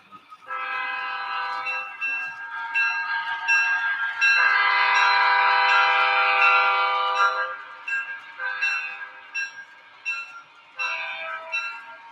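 A Pennsylvania Railroad G7 locomotive pulling a short caboose train on a Fourth of July caboose parade sounds a long, loud, multi-tone horn, then a series of shorter horn blasts.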